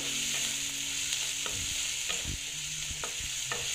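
Egg palak slowly frying in a pan, a steady hiss and sizzle with occasional soft scraping stir strokes, close and continuous with no voices.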